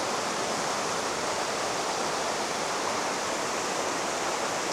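A river flows steadily near a campsite, giving a constant, loud, close rush of water with no pauses or voices.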